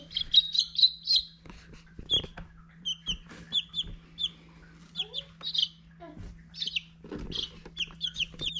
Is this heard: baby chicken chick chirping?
yes